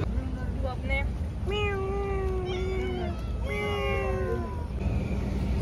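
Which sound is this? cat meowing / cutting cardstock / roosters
cat meowing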